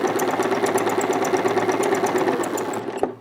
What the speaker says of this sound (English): When you get to the point, lower your needle, raise the presser foot, turn, and continue sewing.